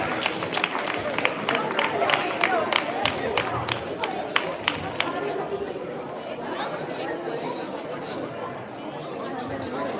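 Applause for Kannada school teachers at a Deepavali and Rajyotsava gathering: scattered claps from an indoor crowd that are sharp and distinct at first, then thin out under steady murmuring chatter.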